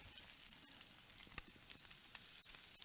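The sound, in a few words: rib eye steak sizzling on a barbecue grill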